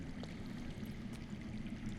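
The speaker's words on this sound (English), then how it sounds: "I hear water. From underground." Underground water streaming steadily in a Game of Thrones video game, a soft continuous low rushing trickle that stays faint and even throughout with no voices.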